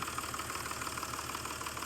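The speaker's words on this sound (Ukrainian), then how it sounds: "Двигун працює чистесенько" The engine of a 2007 MTZ 1221 tractor idles with an even, rhythmic mechanical chug and knocking pulse, heard steadily and fairly close with no talk over it.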